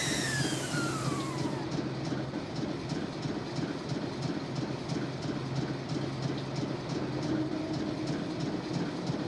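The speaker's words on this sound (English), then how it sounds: "Can't go outside until the train stops." A moving train in a Nancy Drew video game, a loud continuous rumble with steady clickety-clack wheel beats over the rails, preceded by a brief falling whine at the start, with no speech.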